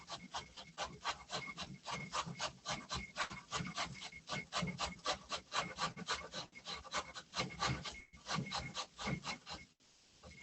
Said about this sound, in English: I'm just going to grate some on these big grates.